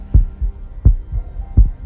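A deep heartbeat pulses in a narrated horror story set in a dark, silent forest: three slow, heavy double thumps, close and muffled, over a low hum with no voices.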